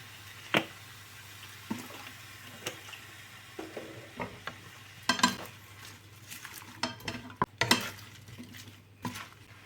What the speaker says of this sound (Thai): เราจะใส่น้ำไปหน่อยนะครับ